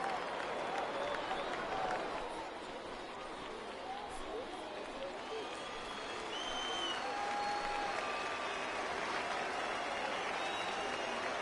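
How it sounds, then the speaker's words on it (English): A simulated baseball crowd in MLB The Show 19 rises into steady cheering and clapping during a full-count at-bat, a broad, even wash of noise from a packed ballpark with scattered whistles and calls. "Crowd gets up for the 3-2."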